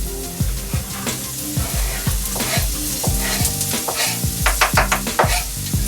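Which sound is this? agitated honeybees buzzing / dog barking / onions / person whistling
onions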